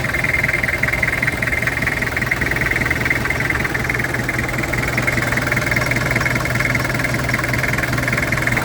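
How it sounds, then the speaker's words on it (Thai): A 1993 Toyota Hilux 2.5 pickup truck engine idles steadily with a low rumbling drone and light knocking, close and constant, with no talking. "ฟังเสียงเครื่องนะครับผม"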